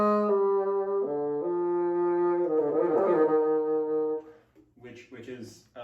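A slow bassoon phrase of sustained low notes stepping gently between pitches, close and full-toned, ending with a few softer, broken sounds.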